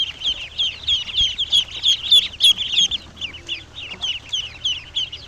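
Eight-day-old ducklings in a bamboo duck house peep for food with rapid, high, repeated calls. The calls overlap in a busy, close chorus that continues throughout, with no speech.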